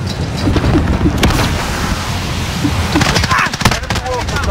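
Dense, loud gunfire and explosions fill a Call of Duty Modern Warfare match on the Shipment map, with continuous rattling shots and blasts throughout.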